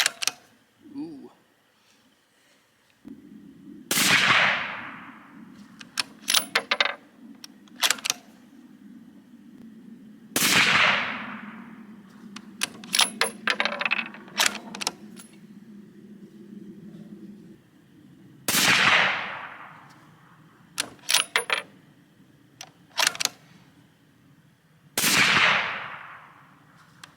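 Four loud, sharp rifle shots from a Tikka T3 CTR firing non-match-grade ammunition ring out several seconds apart, each with a short echoing decay, over a low steady background rumble.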